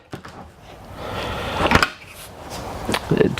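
Cabinet drawers and cupboard doors in a 2020 Eclipse Attitude 2814 GS toy hauler travel trailer slide and bang shut, several sharp wooden knocks and rolling slides close by, with no talking.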